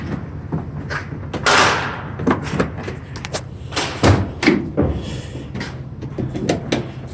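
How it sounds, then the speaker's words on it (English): Rear cargo door of a 2018 Ford Transit T-250 mid-roof long-wheelbase van being opened outdoors, a series of close metallic clunks, latch clicks and thuds spread across several seconds with faint background noise. "All right, let me open this door."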